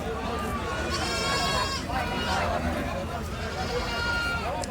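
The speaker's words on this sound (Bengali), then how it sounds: "এই যে ছাগল আর ছাগল, এখানে অনেক ছাগলের বেবি" Goats and kids bleat repeatedly at a busy Bangladeshi livestock market ahead of Eid, with several loud, wavering calls close by over a crowd and people talking.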